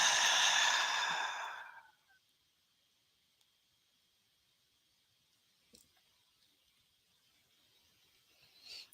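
A slow, deep exhale during guided meditation: a breathy rush of air that fades out after about two seconds, followed by near silence with a couple of faint ticks.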